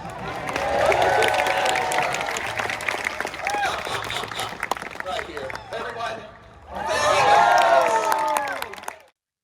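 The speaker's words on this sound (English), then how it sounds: "In Vegas, we have to do this until everyone applauds." An audience at a Renaissance fair falconry show applauds and cheers in a thick, steady wash of clapping that dips briefly and then swells again, with people talking over it.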